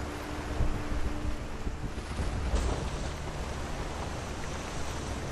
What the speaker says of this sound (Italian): Guardate il mare in tempesta.